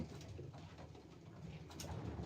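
Pigeons in a breeder loft coo softly and close by over a low, muffled background hum. The calls are faint and keep going through the short stretch.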